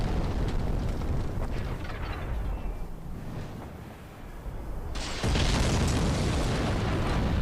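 Rumbling explosions in the video game Dark Souls roar through dense, noisy game audio that dips briefly. The sound then surges back louder and brighter near the end.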